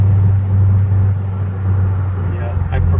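A loud, deep exhaust from a 2007 Mercedes-AMG SL55 with its resonator removed drones steadily up close, with a voice talking over the engine.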